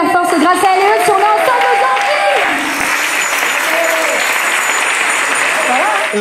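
Loud, sustained applause from a large crowd at the Chalabre en Sérénade 2023 event, with cheers and voices mixed in, continuing steadily throughout.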